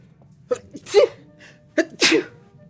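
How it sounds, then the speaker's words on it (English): Two loud, close sneezes about a second apart, each a sharp intake followed by a burst, in a quiet indoor room. "Big sneezing."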